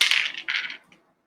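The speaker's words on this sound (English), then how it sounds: "These are actual dice." Real dice rolled for a tabletop baseball game, clattering in two quick rattling bursts close by and then settling with a small final tap, followed by silence.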